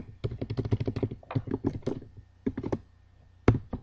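Rapid keystrokes clatter on a computer keyboard in quick bursts separated by short pauses, close and clear with no talk over them.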